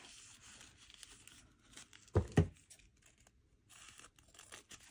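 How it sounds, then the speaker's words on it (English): Scissors cutting paper pieces in half while making a piñata, heard as two short, close snips in quick succession over a quiet room. "I think I can pretty much cut these in half."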